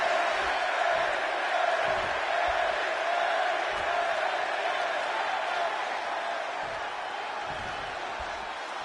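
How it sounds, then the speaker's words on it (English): A packed wrestling arena crowd in Chicago during a WWE 2K26 video game match, a dense continuous roar of many voices that holds steady and eases slightly toward the end. "And just listen to this crowd here in Chicago."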